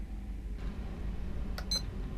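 Electronic beeps from the Mass Effect 2 video game: a short chirp followed by a brighter double beep near the end, faint over a steady low ship hum.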